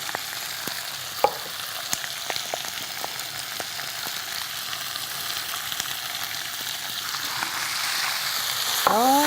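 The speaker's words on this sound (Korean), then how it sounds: "이제 칼집이 벌어질 때까지 볶아주세요." Squid, onion and sauce stir-fry in a hot pan, a continuous close sizzle broken by the scrape and tap of a utensil, growing slightly louder toward the end.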